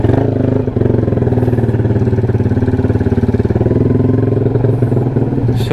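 A motorcycle engine with an aftermarket RMS exhaust pipe runs close up with a rapid, throaty pulsing exhaust note, holding a steady idle with small rev variations.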